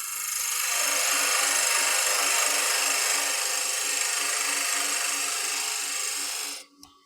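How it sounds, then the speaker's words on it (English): A box blank spins on a wood-turning lathe while a tool cuts a tenon. A steady, loud scraping rasp with a low hum underneath continues alone for about six and a half seconds, then stops abruptly. "I'm going to put a tenon on both sides."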